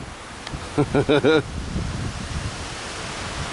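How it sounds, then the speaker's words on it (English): Wind gusting through a stand of trees, a broad rushing swell with leafy rustle that holds steady throughout, while a short voiced call breaks in near the start. "We got a little coverage from the trees with the wind coming that way."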